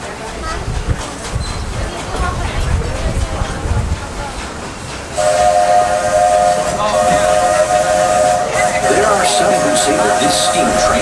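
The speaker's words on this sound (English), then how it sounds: "This steam train is a little old-fashioned, but for me, it's the only way to travel." A steam train at Disney World hisses and rumbles at first. Then a loud, steady steam whistle sounds and carries on, with hissing steam underneath it.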